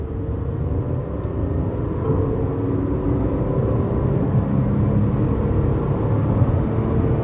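Tata Nexon 1.2 turbo petrol with a manual gearbox accelerating hard on a highway, with a steady, loud low engine and road rumble that holds throughout from inside the cabin.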